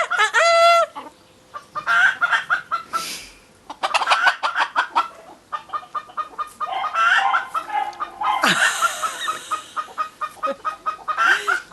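Green junglefowl calling, with loud harsh crowing and clucking phrases in bursts, interspersed with quieter gaps and some rustling, close to the recorder.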